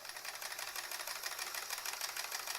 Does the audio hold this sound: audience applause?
no